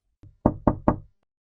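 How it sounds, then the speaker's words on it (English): Knocking on a door sounds close and dry: a soft tap followed by three firm, evenly spaced raps, then silence. "I knock once regardless."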